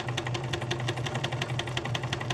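A sewing machine runs at home with a fast, even mechanical chatter of needle strokes, steady and close throughout with no talking.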